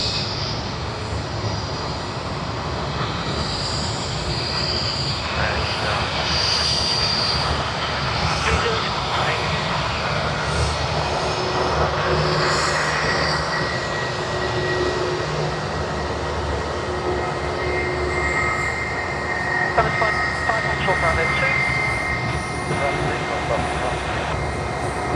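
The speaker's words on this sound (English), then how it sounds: "And as this aircraft just gets out of the way" Jet aircraft engine rumble at Sydney Airport as a plane taxis clear, a steady broad roar holding throughout at close range, with radio chatter and voices faintly mixed in.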